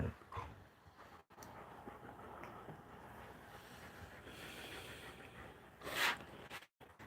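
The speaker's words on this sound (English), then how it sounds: "So this channel is dedicated towards these 3 dogs." A dog gives faint, brief whimpers and small yips indoors, quiet and intermittent against a low background.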